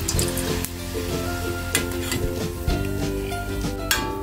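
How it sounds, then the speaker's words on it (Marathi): Farali fasting nuggets deep-frying one by one in hot oil over a low gas flame, giving a loud, steady sizzle punctuated by occasional sharp pops and crackles. "आता हे एक एक करून डीप फ्राय करून घ्यायचे."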